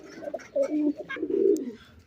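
Pet pigeons in a loft give soft, low rolling coos in quick repeated bursts, close by and fairly steady, with faint chirps over the top and no talk.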